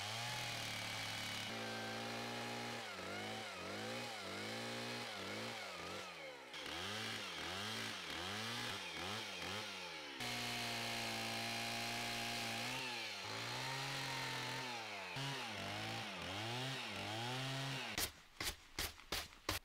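A chainsaw runs loud and close, cutting the corners off a log bench, its engine pitch rising and falling as it bites into wood, ending in a few sharp revving bursts.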